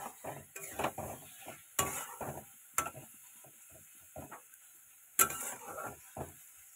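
Pointed gourd cooking in a pan after a splash of water, with a soft sizzle beneath scattered scraping, stirring and clinks of a utensil against the pot, several sharper knocks standing out; no one speaks.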